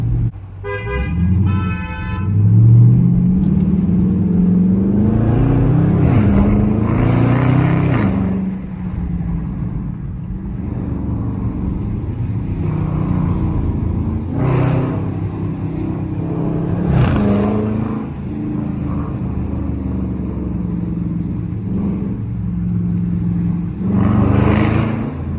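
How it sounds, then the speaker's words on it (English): A Dodge Charger R/T engine hums and revs through city traffic in Times Square, New York, with rising and falling acceleration pulls, a car horn toot near the start and steady street noise throughout. "At least y'all get to hear like what my car sounds like and stuff in the city."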